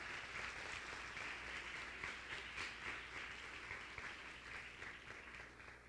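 Applause from a congregation at a Sunday church service: a dense, steady wash of clapping that fills the whole stretch at an even level and eases off slightly at the end.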